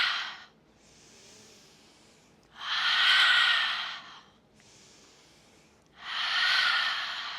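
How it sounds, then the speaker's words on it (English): Yoga breathing in a Himalayan Hatha session, drawing air in through the nose and out through the mouth: soft hushed inhales alternate with louder, breathy open-mouthed exhales, two full cycles, close and unaccompanied by speech. "Inhale, nose. Exhale, mouth."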